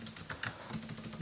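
Quick clattering keystrokes on a computer keyboard, a steady burst of close, light taps with no voices.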